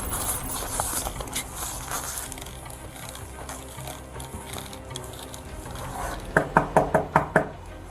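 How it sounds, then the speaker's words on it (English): Police officers rap on an apartment door, a quick burst of about five loud knocks near the end, following several seconds of busy, clattering background noise. "started knocking on the door"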